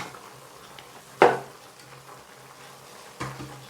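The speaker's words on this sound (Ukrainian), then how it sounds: "тепер я додаю всі інші овочі сюди" Eggplant and zucchini pieces are tipped into a nearly full pot for a vegetable stew. A soft clattering knock is followed two seconds later by a weaker one, both close and set against a quiet kitchen background.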